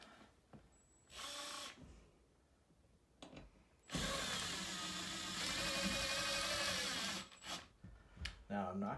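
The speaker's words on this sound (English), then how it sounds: "I got my holes from before that I'm going to just reinstall the screws." A power drill drives screws into pre-made holes to remount a floating shelf: a short whir, then a longer sustained buzzing run, with quiet handling sounds and light speech around it.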